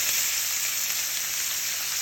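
Onions and celery frying with pancetta in a hot pan for a tomato sauce, a constant near sizzle with fine crackle and hiss, steady and unbroken, nobody speaking.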